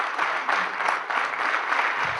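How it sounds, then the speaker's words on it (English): Audience applause welcoming guest Dr. Frank Luntz at an evening leaders forum, a steady, dense wash of clapping filling the hall throughout without a break. "let's give a wonderful, warm round of applause"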